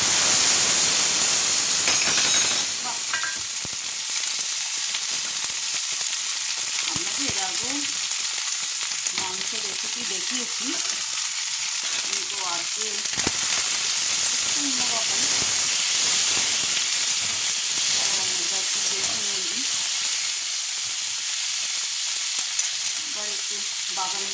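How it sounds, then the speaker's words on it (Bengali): Spice tempering and tomato sizzling hard in hot oil in a home kitchen pan, a loud continuous hiss with stirring scrapes and crackles, with a low voice faintly audible underneath. "এই যে ফোড়নটা চরবর চরবর হয়ে গেছে আর টমেটো"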